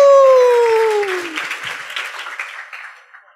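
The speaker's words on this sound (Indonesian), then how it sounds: "Beri tepuk tangan dulu dong teman-teman." Audience applause for an invited speaker at a university student orientation event, a dense wash of clapping that follows a fading sustained tone and slowly thins out over a few seconds.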